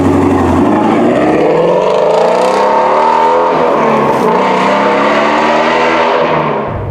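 A Shelby GT350R Mustang, a Ford, roars continuously while being driven, its engine loud and close, revving up and easing through gear changes with a steady, throaty drone and no talking.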